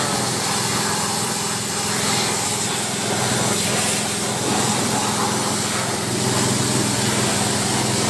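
A high-pressure washer sprays water over a motorcycle to rinse off sand and soap, a loud, steady hissing spray with a whining pump hum underneath, continuous and close, with no talking.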